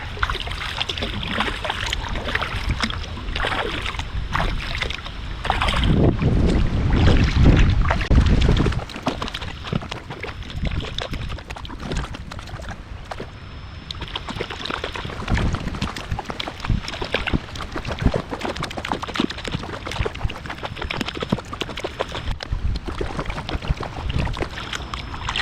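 Boat paddled along the Spruce Creek river in Florida, with soft water sloshes and paddle strokes under gusty wind buffeting the microphone, a louder rush partway through, and no clear talking.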